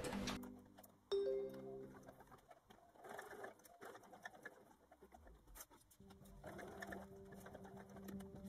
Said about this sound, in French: je vais passer une couture tout autour en laissant cette partie ouverte